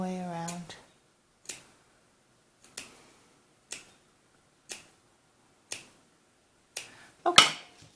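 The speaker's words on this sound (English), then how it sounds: "Now we're going to take our scissors and we're going to clip these all the way around." Scissors snip around the seam allowance of a fabric doll romper, a series of sharp, isolated clicks spaced about a second apart with quiet between them, close to the microphone, after a brief voice at the start.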